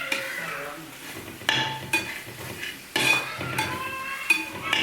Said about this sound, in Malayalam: എല്ലാം കൂടി നമുക്ക് ഒന്ന് ഇളക്കി കൊടുക്കുക